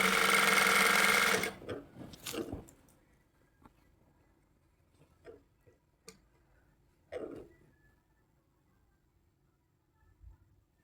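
A sewing machine stitches a sleeve onto a shirt with one loud, rapid run of stitching that lasts over a second. Several short, quieter bursts and taps follow, then the machine falls nearly silent.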